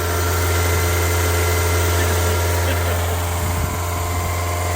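BMW E36 engine idling slightly high, a steady low hum with a constant drone that holds evenly throughout, close and continuous with no revving.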